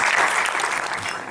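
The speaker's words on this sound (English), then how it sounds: "let's give a big round of applause." Audience applause at a startup graduation event in Pune, dense steady clapping that stays loud throughout, with faint voices mixed in.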